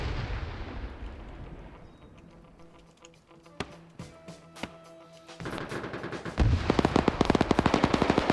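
Video-game battle sounds on an uphill assault: a dull distant artillery rumble, then several sharp isolated shots, then rapid continuous gunfire that grows louder toward the end.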